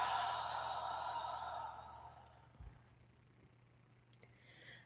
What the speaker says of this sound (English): Slow, long, deep, and breathe out.